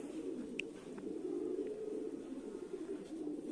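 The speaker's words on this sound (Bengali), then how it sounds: "এই যে কবুতর গুলা নামতেছে গোসল করার জন্য" Pigeons coo softly while landing to bathe in a small water tray, a continuous low burbling coo with a few faint chirps, fairly quiet and with no one talking.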